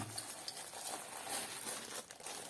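Plastic bags crinkling as a Kelly Kettle base camp kit is unboxed, a soft, continuous close rustle with irregular crackles throughout.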